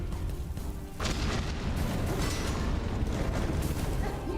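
A rumbling explosion goes off in Hollow Knight: Silksong, a loud broadband boom swelling after a quieter moment and rolling on with crackling debris for several seconds.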